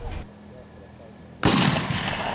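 A historic cannon fires at a Civil War reenactment at Road to Olustee: one loud, close blast that bursts in and rolls on in a long rumbling decay, after a stretch of quiet outdoor background.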